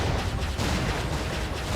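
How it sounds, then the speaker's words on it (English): Repeated explosions in the action RPG Jade Empire: Special Edition during a fight with mine-dropping enemies, a dense, continuous low rumble of blasts layered over each other with no clear gaps. "Ooh, okay, explosions everywhere."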